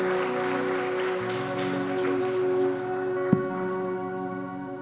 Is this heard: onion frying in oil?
no